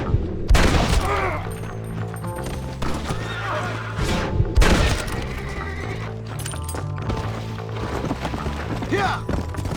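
Horses neigh and whinny loudly amid galloping hooves and bursts of gunfire during a chase in Red Dead Redemption, with shouting voices over the clamor, several sharp loud cries standing out near the start and middle.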